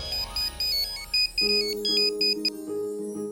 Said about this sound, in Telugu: ఉండండి, ఏదో ఫోన్ వచ్చింది.